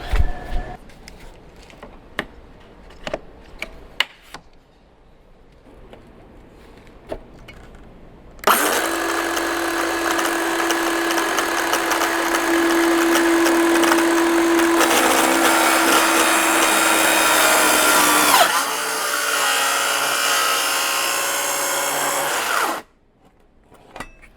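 Two wooden van window frames are cut together as a clamped stack, with a loud, steady power tool running for about fourteen seconds after a quiet stretch of handling noises, then stopping abruptly.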